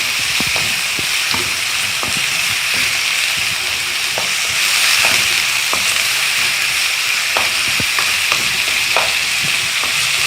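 Minced meat fries with onions in a hot pan, a dense, loud, steady sizzle with frequent small crackles and occasional scraping stirs, heard up close with no voices.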